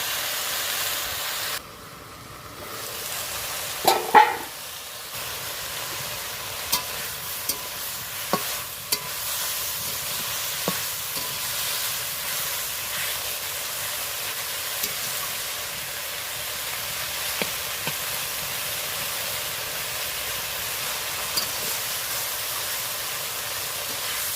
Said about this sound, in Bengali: ঢাকা দিয়ে দিয়ে আমি ভালো করে এটা ভেজে নেব